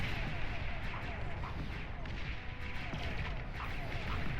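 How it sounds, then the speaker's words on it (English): Anti-air units in the strategy game Beyond All Reason fire steadily at incoming seaplane gunships, a continuous rumbling barrage of shots and muffled blasts under quiet narration. "Now, the AA on the Jaguars will shoot down the seaplane gunships."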